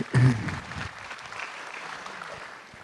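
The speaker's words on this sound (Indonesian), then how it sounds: "Tepuk tangan sekali lagi dong buat Mukmin." An audience claps at a stand-up comedy grand final, a short burst of applause that peaks at the start and then fades to a thin, distant patter.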